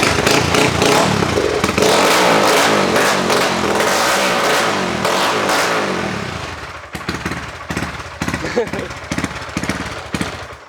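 A Honda Wave 100 motorcycle with a big exhaust, 66 mm bore, 5 mm stroker crank and 250 block, fuel-injected, revving hard and loud up close, its engine note cutting out and then returning in choppy bursts, with voices talking over it.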